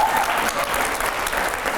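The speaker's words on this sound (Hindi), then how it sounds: "जोरदार तालियां हर सवाल पे" Loud studio audience applause during a televised talk show, a dense, steady burst of clapping heard on its own for under two seconds.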